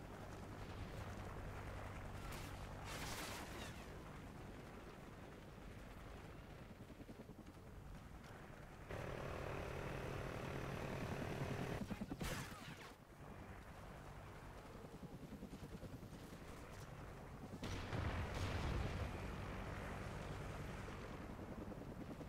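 A friendly helicopter arrives in a PC shooter game, its broadband rotor wash and engine roar steady and loud for most of the stretch, with surges and gusty bursts of wind noise around the midpoint and near the end.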